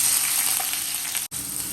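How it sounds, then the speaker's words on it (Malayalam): Chopped sausage sizzles steadily in hot oil in a pan, a loud, close frying hiss that cuts out for an instant near the end. "നമ്മൾ ആദ്യം ഈ സോസേജ് ഒന്ന് വറുത്തെടുക്കുവാണ് അതിനങ്ങോട്ട് ഇട്ട് കൊടുക്കാം"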